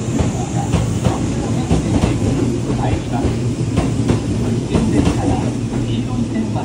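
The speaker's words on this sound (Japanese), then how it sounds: "A rapid express bound for Yoshino is arriving at platform." A Kintetsu rapid express bound for Yoshino rolls into a station platform, with a steady rumble and rhythmic clatter of wheels, while an announcement voice speaks over it.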